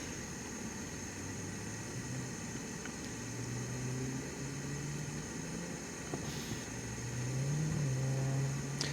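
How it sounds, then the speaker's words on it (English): Noisy cars pass near a wild camping pitch, a low engine drone with rising and falling tones as vehicles go by, growing slightly louder toward the end. "there's some noisy cars around here"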